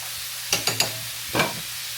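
Butter for a chicken Alfredo melts in a hot pan with a low sizzle, broken by three quick clattering scrapes and a longer stir.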